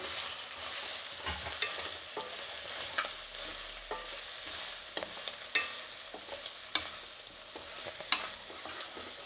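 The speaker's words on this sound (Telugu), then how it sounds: "కొంచెంసేపు బాగా వేయించుకోవాలి." Meal maker soy chunks fry with spices in a pan, giving a steady close sizzle broken by frequent scraping stirs and sharp clicks of a spoon against the pan, with no talk.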